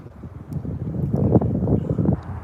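Strong, cold wind blows outdoors on a sunny winter day beside icy roads, a loud roaring rush with gusty swells and mic buffeting, building toward the middle and heard alone without talk.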